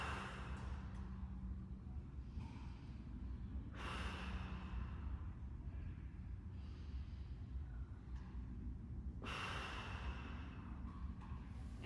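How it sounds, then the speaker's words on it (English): Slow, deep breaths during a prone decompression breathing exercise, lying face down with the nose just off the floor, heard as several long airy inhales and exhales, close and soft, with no talking. "3 big breaths."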